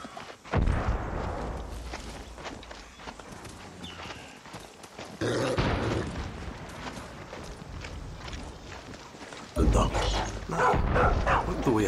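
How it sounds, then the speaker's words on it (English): A dog barks and yips in Far Cry 6 amid galloping hooves and dense game noise, with bursts of louder action and talk over the mix. "I love that dog."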